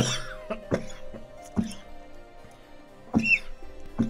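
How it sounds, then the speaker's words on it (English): Several short, harsh coughs spaced irregularly, close and fairly quiet, with a small throat-clearing sound between them. "You've been coughing like that for at least a week."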